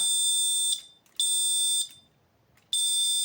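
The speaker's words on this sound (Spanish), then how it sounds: "Incluso esto se puede hacer para cuando les abren los coches y ponerle una alarma" Electronic alarm rigged to go off when a car is opened, sounding as loud, shrill continuous beeps in three long bursts separated by short silent gaps.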